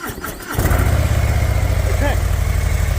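A Harley-Davidson Breakout motorcycle with a 117 engine and factory exhaust cranks and catches after a brief whir, then settles into a loud, throbbing idle with a quick rev close by.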